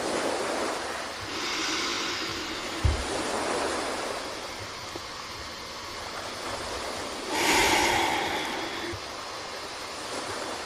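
Ocean waves wash in with a broad, steady hiss, swelling twice into louder surges, plus one brief low thump, soft and continuous with no voices.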